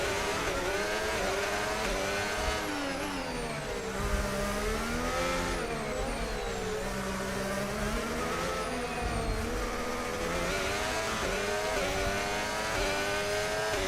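A Formula 1 race car engine in the video game F1 25 screams continuously at high revs, pitch rising and falling through gear changes and hard braking, with other cars' engines whining nearby.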